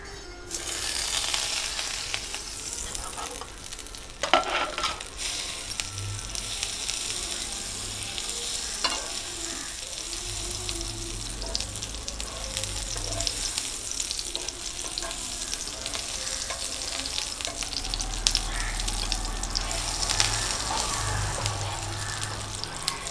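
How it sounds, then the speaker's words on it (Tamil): Butter sizzles steadily on a hot dosa griddle, a loud, continuous crackle and hiss heard up close with a few scrapes and knocks. "இப்போ தோசைக்கல் சூடாயிடுச்சு. இப்போ பட்டரை போட்டுருவோம்."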